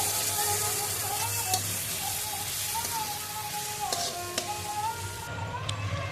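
Green chickpeas sizzle steadily in a pan on the stove, a continuous close frying hiss with occasional faint clinks of a spoon stirring.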